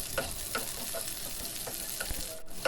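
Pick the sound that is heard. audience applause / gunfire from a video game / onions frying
onions frying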